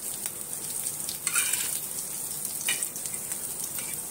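Surmai fish frying in hot oil in a pan, a steady bright sizzle with a few louder crackling surges, close and fairly soft, with no voices.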